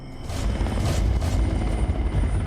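A local Kyrgyzstani helicopter drones loudly from on board, its rotor thudding in steady pulses over a dense engine roar, heard continuously and close in blizzard conditions.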